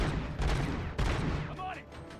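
Bursts of gunfire in the shooter game Robocop: Rogue City, two loud volleys close together followed by a fading tail, with voices shouting over the shots.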